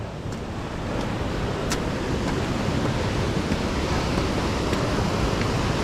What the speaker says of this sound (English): with the noise of the waterfall